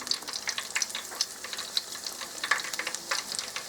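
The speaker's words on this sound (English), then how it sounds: "You see how nice those are frying up." Beer-batter onion rings frying in hot oil, with close, busy crackling and sputtering pops scattered irregularly over a soft bubbling sizzle, no voices.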